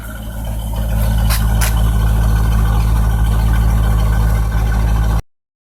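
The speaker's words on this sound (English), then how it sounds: "let's do a before sound so we get an idea what the idle is before" A Corvette C5 engine idles with stock exhaust, a deep, steady rumble close by, its low exhaust burble holding even for several seconds before cutting off.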